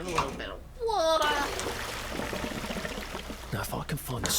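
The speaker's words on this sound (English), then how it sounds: "Get rid of a little bit of water." Water sloshing and pouring out in the video game We Happy Few, a rushing, gurgling splash that swells and then trickles on, with a voice briefly heard over the start.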